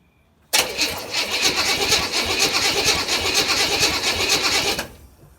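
A 1963 Chevy Impala, unstarted for over 14 years, being cranked by its starter, a loud continuous rhythmic churning that starts abruptly and runs steadily for about four seconds before cutting off, without catching into an idle.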